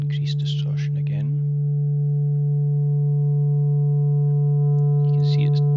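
Pure steady sine tone with odd harmonics from increasing harmonic distortion, a sustained hum with stacked overtones, and someone speaking briefly at the start and end.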